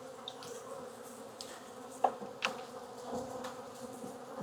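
Honeybees buzz softly around an opened beehive during an inspection, a faint, steady insect drone with a few brief louder buzzes passing close.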